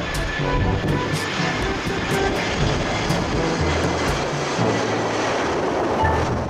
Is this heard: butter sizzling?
no